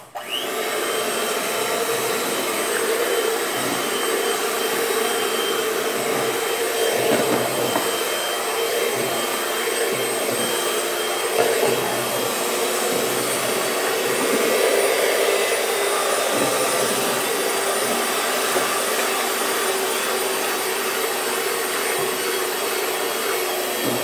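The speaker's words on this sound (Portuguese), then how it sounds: "Vou pegar a batedeira agora." An electric mixer beats a large batch of homemade liquid soap made from oil, lye and ethanol, producing a loud, steady motor whine with rough churning throughout, with no talk.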